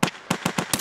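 Five sharp, loud M1A rifle shots ring out in Escape from Tarkov, fired in quick, slightly uneven succession with no voices over them.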